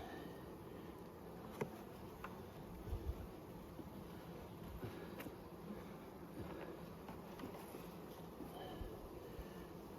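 Honey bees buzz in a continuous low, faint drone around an open hive during a spring brood box inspection at Nymboida, with light rustles and soft knocks of frames.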